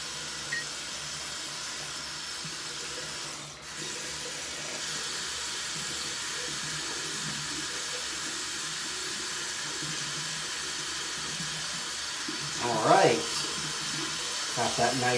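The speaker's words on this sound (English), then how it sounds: "So we're gonna run some hot water." Hot water runs steadily from a household tap into a sink as a constant hiss throughout, with a brief splash or clunk near the end.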